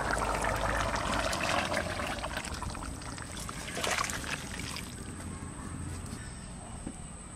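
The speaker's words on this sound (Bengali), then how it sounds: "কুমড়ো শাক রান্না করব, প্রথমে জল দিয়ে দেবো।" Water poured into a cooking pan before pumpkin greens and stalks go in, a steady splashing pour at close range that tapers after the first few seconds, with faint outdoor background noise.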